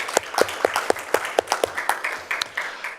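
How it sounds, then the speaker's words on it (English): Modest applause from a small group gathered at a student fee hearing, with distinct separate claps in a loose rhythm, fairly close and moderately quiet. "So let's give them a round of applause."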